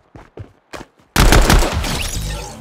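Gunfire in the video game Fortnite, gun game mode on a City of Rome creative map: a few short quiet pops, then a sudden loud sustained burst of rapid shots that trails off slowly.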